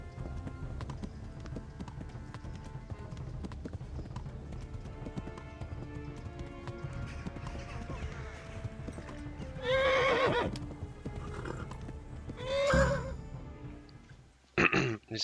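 A horse in Kingdom Come: Deliverance gallops with fast rhythmic hoofbeats, then neighs loudly twice, whinnies standing out over the continuous pounding.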